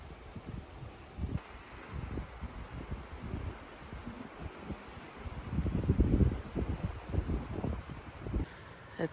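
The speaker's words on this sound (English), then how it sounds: "It's so windy outside." Wind gusts on an outdoor hiking trail, rumbling low and buffeting the microphone, swelling louder toward the end of a steady blustery stretch.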